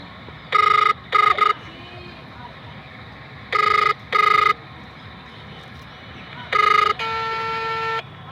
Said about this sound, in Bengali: আমি আমার চাচাকে ফোন লাগাচ্ছি।